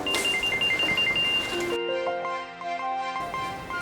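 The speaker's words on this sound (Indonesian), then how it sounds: "Bentar ya, ada telepon masuk." A phone rings with an incoming call, a repeating electronic ringtone melody chiming in short regular pulses, fairly clear over a faint room background.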